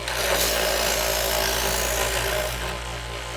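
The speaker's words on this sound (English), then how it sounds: "you can hear the motor bog down a little bit" A close, steady grinding rasp of a Chef's Choice Model 110 electric knife sharpener's motor working a blade against an abrasive wheel, bogging down slightly toward the end under light pressure.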